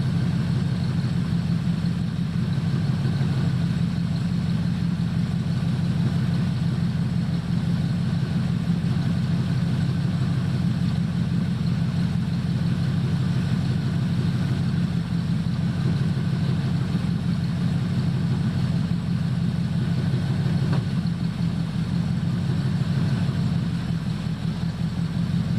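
A 1976 Chevrolet C10 squarebody pickup's engine idles steadily at close range, a constant low rumbling drone with no clear revving throughout.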